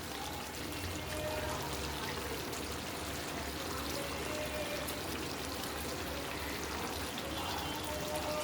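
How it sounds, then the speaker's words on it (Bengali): Lemon juice poured into chicken cooking in a pan for a Bengali gondhoraj lemon chicken, a steady liquid pouring and trickling hiss that runs evenly throughout at moderate loudness with no talk. "এখানে একটু লেবু রস করে রেখেছি, এই রসটা দিয়ে দিলাম"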